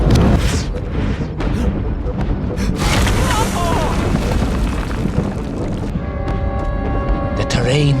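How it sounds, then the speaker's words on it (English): Explosive eruptions of fire and heat in the underground world of the video game Little Orpheus, loud booming rumbles and bursts that roll on for several seconds, with a narrating voice over part of it. "Explosive eruptions of fire and heat."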